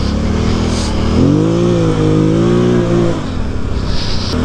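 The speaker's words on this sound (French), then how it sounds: "On met les gaz, mais ça a du mal à accrocher." A car engine revs up and holds as the tires slip on snow, a loud close droning roar with rising and falling pitch over a constant rumble.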